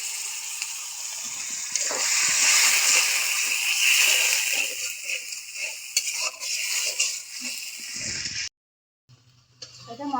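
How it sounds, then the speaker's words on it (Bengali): Spice paste with turmeric and salt being stirred and fried in a pan with a splash of water, a loud continuous sizzle with scraping stirs that cuts off abruptly near the end, heard close up without speech. "এখন ভালো করে মশলাটা কষাই নেব একটু পানি দিয়ে"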